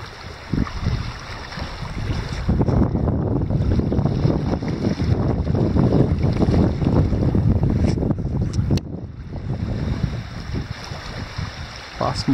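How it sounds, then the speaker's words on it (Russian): Waves wash steadily onto a rocky Caspian Sea shore on an overcast day, a continuous close rumble of surf mixed with wind buffeting the microphone. "Волны набегают на берег."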